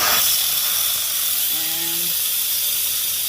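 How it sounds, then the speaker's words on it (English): Steam hisses loudly and steadily through an opened pressure cooker release valve, close up and unbroken throughout, with a brief faint tonal whistle partway through. "there goes all your steam coming out"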